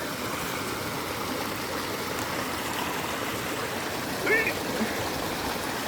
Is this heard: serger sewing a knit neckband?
no